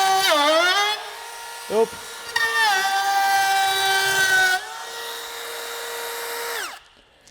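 A Milwaukee cordless router runs at full speed through wood with a loud, high-pitched whine, briefly dips and recovers when the bit hits a knot, then spins down near the end; a voice briefly exclaims partway through.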